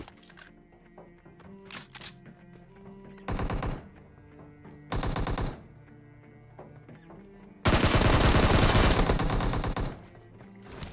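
Rapid automatic gunfire from a shooting video game, heard as loud close bursts: a few short volleys and then one sustained rattling burst of about three seconds, over quieter game background sounds.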